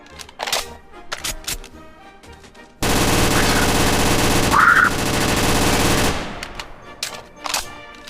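Rapid automatic gunfire at a VRChat gun range fires in one sustained burst of about three seconds, loud and close, set between scattered single shots and clicks before and after.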